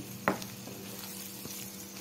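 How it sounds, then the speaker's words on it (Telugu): Beaten eggs hit a hot frying pan with a sharp initial sizzle, then settle into a soft, steady crackle with faint stirring, close and fairly quiet, no voices. "వేగిన తర్వాత ఇట్లా గుడ్లు కొట్టి వేసుకోండి"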